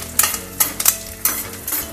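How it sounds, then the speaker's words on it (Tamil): Chana dal with asafoetida being dry-roasted in a pan, sharp bursts of utensil scraping and stirring repeating every half second or so over a faint sizzle, close and clear with no talking. "பருப்பை நல்லா செவக்க வறுத்துக்கலாம்."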